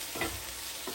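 Shrimp stuffed eggs sizzling in a frying pan just after being flipped, a steady close hiss of hot oil with two soft thumps of a spatula, brief and without voices.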